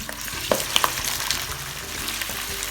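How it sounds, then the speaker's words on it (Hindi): Chicken frying in hot oil with whole spices (black cardamom, dried red chilli, green cardamom, cinnamon and cloves) gives a dense, steady close-up sizzle broken by a few sharp clinks of stirring. "इसको हम इसका कलर चेंज होने तक फ्राई करेंगे।"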